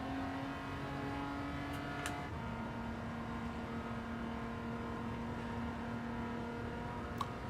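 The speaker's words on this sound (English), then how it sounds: "Better too, upshifting. It's going through the revs." A 1980 Maserati Merak SS engine revs through its gears in Gran Turismo 7, a steady droning tone that climbs and settles with shifts, moderately loud and heard alone.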